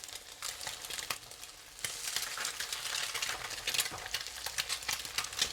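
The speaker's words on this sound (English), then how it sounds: "Just cook them for about a minute or so on the other side, just to brown them up a little bit." Eggs fry in sesame oil in a pan for a Chinese minced pork and egg dish, giving a steady close sizzle that swells louder partway through, with crackling pops scattered on top.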